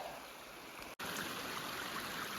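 A mountain creek runs beside a hiking trail on the Athabasca Pass route, a steady close rush of flowing water that drops out for a split second near the start, then continues unbroken.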